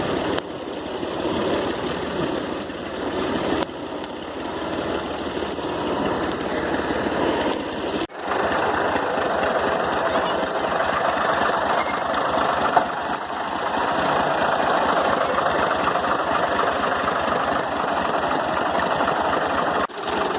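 A new-model 2020 wheat thresher attached to a tractor trolley runs continuously, a dense, steady mechanical drone with a rapid rattling vibration. It is loud and close, with only brief dips in the noise.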